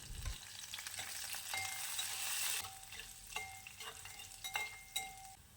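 Ginger, garlic, green chili and curry leaves sizzle in hot oil for a rose apple pickle, with a steady close frying hiss broken by several scraping stirs of a spoon.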